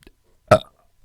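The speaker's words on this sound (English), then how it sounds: "Full of burps today." One short, loud burp erupts close up after a faint click, then silence.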